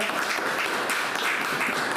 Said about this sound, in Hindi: तो एक बार फिर जोरदार तालियां।